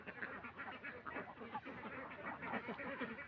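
Ducks quacking on a duck farm where month-and-a-half-old ducklings mix with grown ducks, a dense, continuous chorus of overlapping calls close by, with no quiet gaps.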